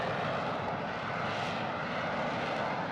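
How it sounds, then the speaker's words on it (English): Engine roar of an F-35B stealth fighter jet in flight, a loud, steady broadband rush that continues unbroken without voices. "F-35B is like a cute jet. It's a cute tiny jet."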